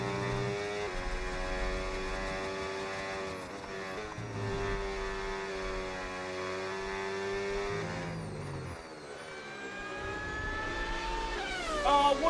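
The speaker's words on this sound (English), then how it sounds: "Why can I hear an F1 car in my ear?" F1 car engine in the F1 26 racing video game, a high-pitched whining tone that rises and shifts through gears, steady and moderately loud beneath game music and sounds.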